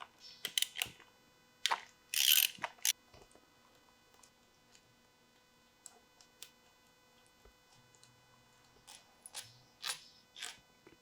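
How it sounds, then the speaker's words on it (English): Ratcheting clicks from a 10mm wrench loosening the four bolts on a boat engine thermostat cover, arriving in short bursts with pauses, close and fairly loud, with fainter ticks and handling noises between. "We're gonna start by removing these 4 bolts. 10mm wrench to pull them off."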